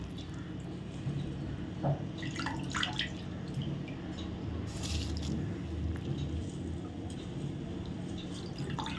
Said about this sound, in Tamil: இப்போ பார்த்திங்கன்னு சொன்னால் தண்ணி வந்து நல்லா கொதிச்சிருச்சு